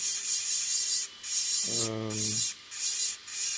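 Dark-bodied opal being sanded with a medium-grade abrasive, a steady hissing rub that runs almost continuously, broken by two brief pauses, with a short low mechanical hum in the middle.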